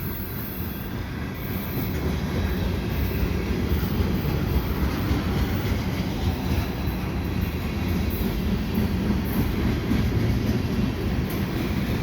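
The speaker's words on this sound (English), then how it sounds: "So this train seems to be a lot of auto racks, a lot of tanker cars," A CPKC freight train of auto racks and tanker cars rumbles steadily past nearby in winter at Dorval, for the whole stretch, with a constant low roar of wheels on rails and no voices.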